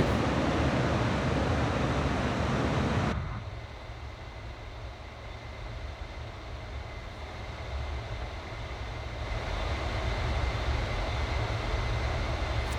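Vulcan B Mk2 jet bomber engines in a flight simulator game, a loud continuous broadband roar that abruptly drops to a quieter rumble, then swells again toward the end; no talking.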